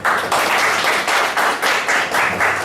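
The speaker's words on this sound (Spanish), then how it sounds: "vamos a darle un fuerte aplauso" An audience at a university event in Puerto Plata claps loudly and in unison, the applause coming in steady rhythmic bursts about three per second, close and clear with no talking.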